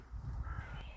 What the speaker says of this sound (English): including these magpies and this crow.